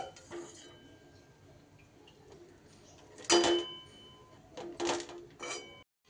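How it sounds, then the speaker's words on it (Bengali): Quiet kitchen scene with a few sharp metallic clinks and scrapes of a utensil against a wok as fried snacks are lifted into a bowl, spaced apart, over faint background noise. "এবার আমি এগুলো কড়াই থেকে তুলে নেব এবার একটা পাত্রের মধ্যে এগুলো আমি তুলে নিচ্ছি"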